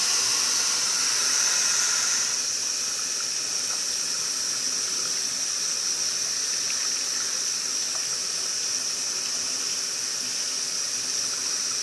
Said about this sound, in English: Now that it's not shooting steam anymore